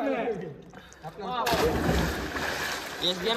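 Someone jumps into a natural village well and hits the water with a sudden loud splash, followed by sloshing and churning, after a few moments of voices and shouting.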